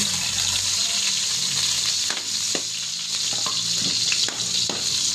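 Garlic sizzles and crackles steadily in a hot pan, a dense frying hiss broken by occasional stirring clicks and scrapes.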